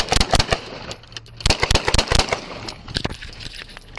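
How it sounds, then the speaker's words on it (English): Rapid burst of about a dozen loud, sharp gunshots fired at a police traffic stop, clustered in quick volleys with brief pauses, no talk over them. "shots fired, shots fired"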